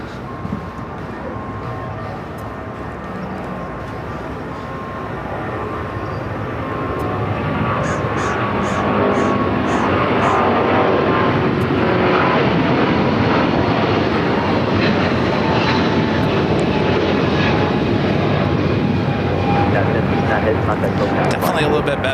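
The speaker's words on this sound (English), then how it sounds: "ANA continuing it, taxiing down to 25 at right." An ANA airliner taxis toward runway 25 Right at LAX, its broad jet engine roar swelling and holding steady, close and loud, with voices talking over it.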